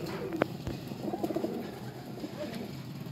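Pigeons cooing softly in a loft where birds are shown for sale, a few low rolling coos at moderate distance over faint background noise.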